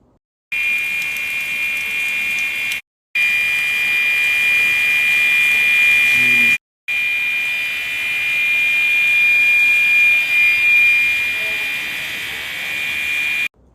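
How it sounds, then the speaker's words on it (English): School fire alarm set off by a wood shop dust collection system, sounding a loud, steady electronic buzzing tone that cuts out briefly twice before resuming, with no one talking. "That is the dust collection system went into alarm for whatever reason."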